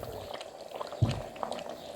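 Stew bubbles quietly in a covered kitchen pot, a faint, steady boil with one slightly louder burble midway through.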